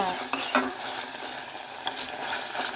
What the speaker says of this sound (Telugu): కొంచెం ఫ్రై కావాలి ఎక్కువ కాదు కానీ కొంచెం ఫ్రై అయితే మంచి టేస్ట్ ఉంటుంది